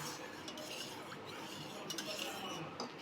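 A spoon slowly stirring milk and curd in a bowl to set homemade curd, soft scraping and faint clinks under quiet room noise.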